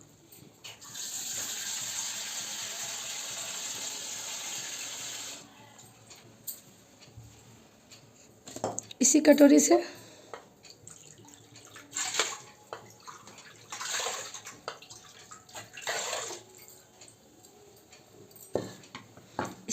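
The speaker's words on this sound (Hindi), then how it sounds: "इसमें 3 से 4 कटोरा पानी डाल लें" Water poured from a bowl into a cooking pot on the stove while making jaggery pitha: several separate splashing gushes come in short bursts between quiet pauses, with someone speaking briefly.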